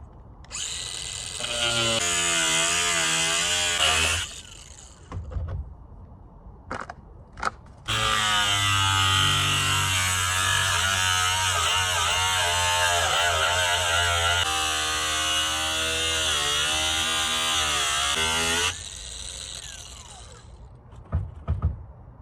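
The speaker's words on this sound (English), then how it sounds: "Now I'm using the grinder to cut the straight lines and pull it off." An angle grinder cuts through car body sheet metal on a junkyard-built Civic limo, making a loud, high whine in two long bursts separated by a short gap, with brief spin-down sounds between them.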